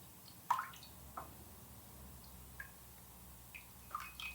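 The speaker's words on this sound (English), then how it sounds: "just go in there and kind of play with my water mixture" A hand swishes and plops in a small bowl of water mixed with black pepper, producing scattered soft drips, squishes and light splashes at close range over a faint background hum.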